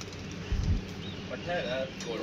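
Faint, low pigeon coos sound softly against a noisy outdoor background.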